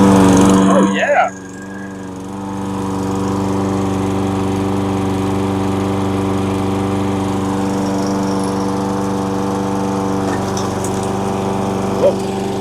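A 22 Toro self-propelled lawn mower with a Kohler engine runs close by. A brief startup burst settles into a loud, steady droning roar that continues to the end.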